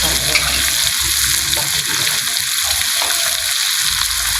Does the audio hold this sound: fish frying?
yes